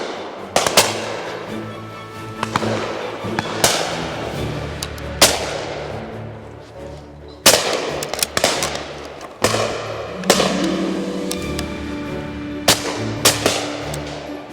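A William Powell Perdix shotgun firing at clays, with loud, sharp reports spaced a second or two apart over about fourteen seconds, each shot ringing out into open air with some echo.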